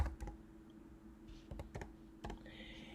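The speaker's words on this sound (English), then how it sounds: "I'm going to click and type in Faithful." Quiet keyboard typing at a computer while entering text in Photoshop: a handful of light, close key clicks in short clusters over a soft steady hum, with no talking.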